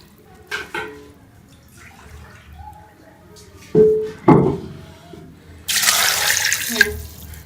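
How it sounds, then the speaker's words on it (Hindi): Two glasses of water go into a cooking pot of chicken-feet curry with onion and garlic: a few short splashes and knocks, then a longer rushing pour near the end, with speech around it. "हम इसके अंदर 2 ग्लास पानी के डाल के इसको हम पकने के लिए"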